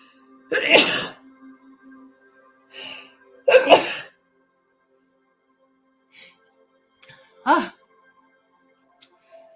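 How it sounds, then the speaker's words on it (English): Several loud, sharp sneezes burst out one after another, separated by quiet pauses, with a few faint small noises between them. "Apologize for the sneeze."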